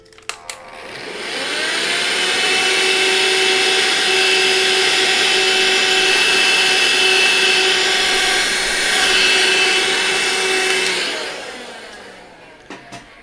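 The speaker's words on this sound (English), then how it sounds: "I need to vacuum this area because I need to make sure her face is clean." A small vacuum runs over a PanPastel pastel drawing, switching on with a rising whine, holding a steady, loud, tonal hum for about nine seconds, then spinning down, with faint clicks at the start and end.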